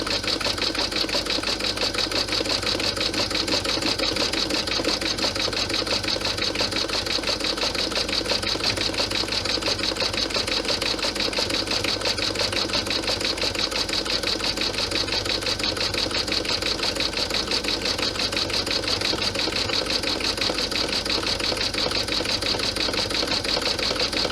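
A sewing machine stitches an outline and pockets through black vinyl with black thread, giving a continuous fast mechanical whir and needle chatter that runs evenly and fairly close for the whole stretch, without any talking.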